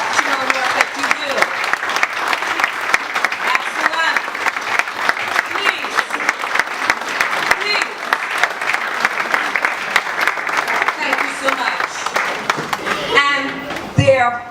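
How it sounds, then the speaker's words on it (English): Audience at a book event on St. Martin women and natural hair culture gives sustained, dense applause for about thirteen seconds, steady and loud, tapering off at the end as a voice begins speaking. "give you a resounding applause for this exceptional work that you do"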